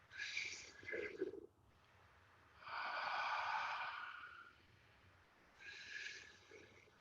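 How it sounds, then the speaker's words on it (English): Slow, deep breathing in and out during a relaxation exercise: three soft breaths with pauses between them, each a gentle airy rush. The middle breath is the longest and steadiest. No talking is heard. "breathe in real deep, all the way down to your toes, and then breathe out"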